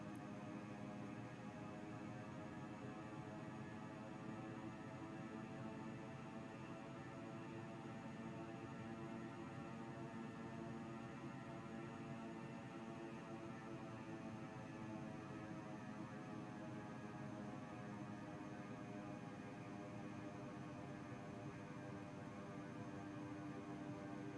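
Beechcraft C90B King Air twin turboprop taxiing at Koyukuk Airport, Alaska, in X-Plane 11, a steady droning engine hum with layered tonal whine, constant and loud throughout with no talking.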